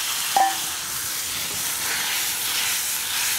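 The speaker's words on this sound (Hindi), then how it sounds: "अब इसमें थोड़ा सा पानी डाल देंगे" Water hits a hot kadai with slightly burnt contents with a brief splash, then a loud, steady hissing sizzle carries on evenly throughout.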